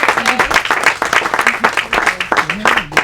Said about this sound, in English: Can we give Mimi a round of applause?